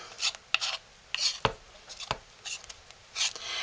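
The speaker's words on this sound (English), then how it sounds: "we're going to stir liberally and clean our spoon" Wooden spoon stirring homemade blue soap from an all-in-one kit, giving soft intermittent scraping and rubbing strokes against the container, close and fairly quiet, with a couple of sharper knocks.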